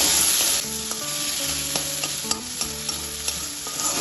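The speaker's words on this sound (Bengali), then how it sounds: "এটা তেলের সাথে ভালোভাবে নাড়াচাড়া করে নেব।" Grated ginger and chopped green chilli fry in hot oil with a loud, continuous sizzle. Close-up stirring adds repeated scraping taps in an irregular rhythm, and no voices are heard.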